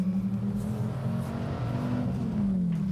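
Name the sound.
Dodge Viper ACR engine revving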